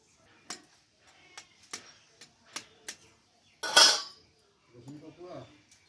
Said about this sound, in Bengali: তিনটি ডিম আমি ফাটিয়ে নেব